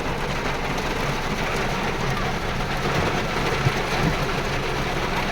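Heavy rain pours steadily around a car porch, a dense, even hiss with no pauses, loud and close throughout.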